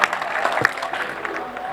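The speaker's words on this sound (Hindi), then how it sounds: "ये पूरा सदन तालियां बजाए" A hall audience claps at a public gathering, a short burst of scattered, fairly close applause lasting under two seconds.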